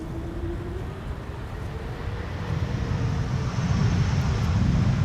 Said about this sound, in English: sounds emanating from an E2 Embraer that landed on Polderbaan just now